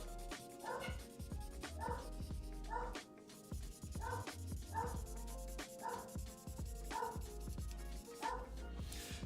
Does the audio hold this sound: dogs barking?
yes